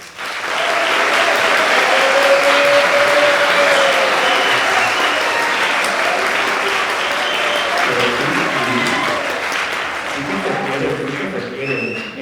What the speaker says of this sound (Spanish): a medir vuestros aplausos